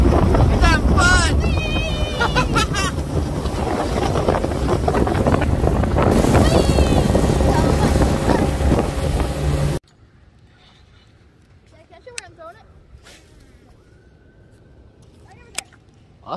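A fishing boat cruising across Raystown Lake, roaring engine and heavy wind buffeting the microphone up close for about ten seconds, then a sudden drop to quiet with faint sparse sounds.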